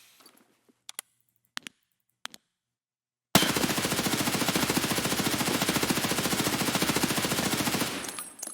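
A few sharp clicks and taps, then an automatic rifle in Escape From Tarkov fires a loud, rapid sustained burst for about four and a half seconds, each shot evenly spaced, before it cuts off.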